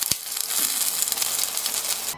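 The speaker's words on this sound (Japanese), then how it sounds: "フライパンに多めに油を入れて中火で熱し、豆腐を並べて全面が色づくまで加熱します。" Cornstarch-coated tofu pieces fry in plenty of oil in a pan over medium heat, giving a steady bright sizzle throughout with a sharp clack near the start, close and alone.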